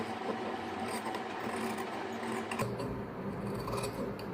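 Fabric scissors snip through the front panel of a blouse being cut on a table, a steady run of soft close rasping and rubbing strokes with a brief sharper cut midway, with no talking.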